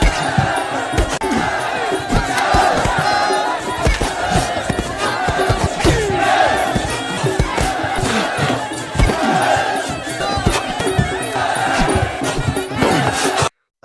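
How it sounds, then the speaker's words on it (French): A large crowd of prisoners and high-ranking officers gathers for a fight, filling the space with a continuous dense roar of shouting and cheering voices from start to finish. "Une grande foule de prisonniers et d'officiers de haut rang se rassemblent pour assister au combat"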